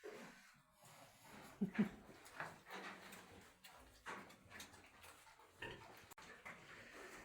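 Pigs grunt and snuffle close by in short, irregular bursts, with soft rustling and shuffling between the calls.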